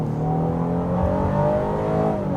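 A 2024 Honda Ridgeline Trailsport pickup accelerates hard on a highway, its engine note rising steadily and loud from start to finish with no talk over it.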